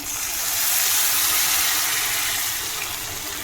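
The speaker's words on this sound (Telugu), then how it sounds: "ఇప్పుడు వాటర్ పోసేసుకున్నాం" Water being poured into a cooking pot while making khichdi, a steady close rushing splash that swells and holds for several seconds without talk.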